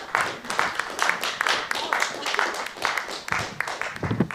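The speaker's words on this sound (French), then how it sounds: "Je pense qu'on peut l'applaudir." An audience at a live science-thesis contest applauds with rhythmic clapping that holds steady at moderate loudness throughout, while voices speak over the top.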